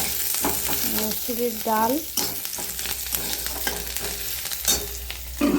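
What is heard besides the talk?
onion tempering sizzling with masoor dal in pan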